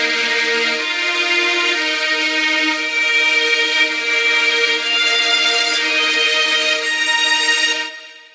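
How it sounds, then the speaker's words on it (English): High violins accompany horns and trumpets in an emotional orchestral melodub remix, a loud, steady wash of held notes with no talking that tapers away in the final moment. "And then we have some higher violins to accompany the place of the horns and trumpets."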